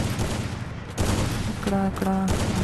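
Sniper rifle fire rings out in the Free Fire video game amid loud, dense in-game noise, with a sharp burst followed by short tonal beeps.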